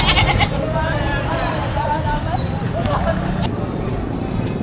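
Several goats bleat in a noisy outdoor crowd at a livestock auction in Padre Garcia, Batangas, their wavering calls overlapping with constant background chatter and commotion.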